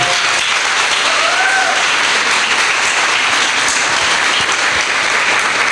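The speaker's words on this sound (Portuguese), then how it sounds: "E eu queria dar uma salva de palmas para ela." Sustained loud applause from an audience honoring the engineer responsible for the building, steady dense clapping throughout with a faint cheer or whistle near the start.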